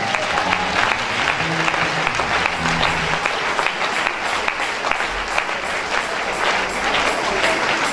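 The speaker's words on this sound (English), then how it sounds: "Come on, put those hands together." A church congregation at an apostolic convention claps steadily and loudly, a dense continuous wash of hands with crowd murmur, a low hum and faint voices mixed underneath.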